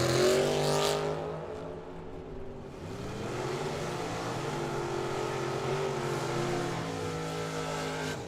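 A drag racing dragster at Firebird Motorsports Park makes its run, a loud engine blast that fades, then a rising whine of revving with stepped pitch changes like gear shifts continuing to the end.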